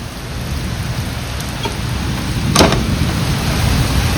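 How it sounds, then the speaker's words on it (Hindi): Heavy monsoon rain pours down outside as a steady, dense roar of falling water, with a brief louder burst partway through; no one speaks. "ये इतनी तेज़ बारिश थी कि कुछ नज़र ही नहीं था आ रहा।"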